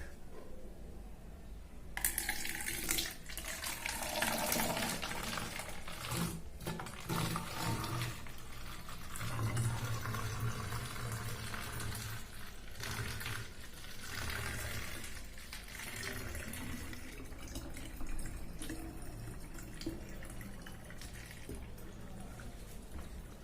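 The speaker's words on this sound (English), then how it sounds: "I'm using filtered water here, which we usually drink." Filtered drinking water poured while a homemade disinfectant spray is mixed, a steady rushing stream that starts abruptly and continues loud and broadband for about twenty seconds, alone without talk.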